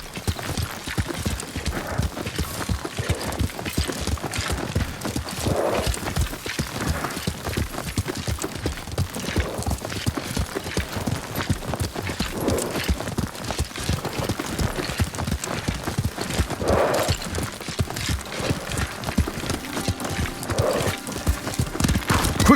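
Horse hooves gallop in steady, rapid clip-clop rhythm throughout, close and continuous, with occasional whinnies, from the samurai open-world game Ghost of Tsushima, heard alone without talk.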